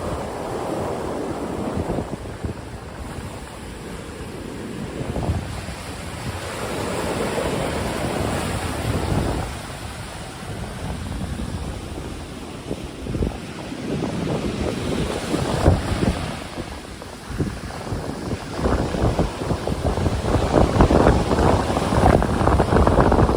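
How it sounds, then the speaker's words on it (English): Powerful ocean waves surge and wash up a Miami beach after Hurricane Ian, their rolling roar rising and falling under heavy wind buffeting, growing louder toward the end. "these are pretty powerful waves. I mean, they're coming right up to my feet here"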